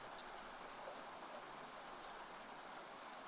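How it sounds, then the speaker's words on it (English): Light rain falls steadily in an even, soft hiss that carries on unbroken, with no voices and no distinct drops standing out. "Especially not a light rain like this one."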